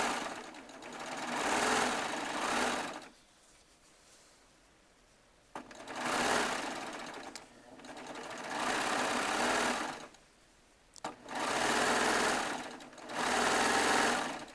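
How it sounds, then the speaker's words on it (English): A Baby Lock serger sews jelly roll strips for a rail fence quilt in long, fast, droning runs, close and steady, with brief pauses between seams. "I'm going to get another set of jelly roll strips, and I'm going to make a rail fence on the serger"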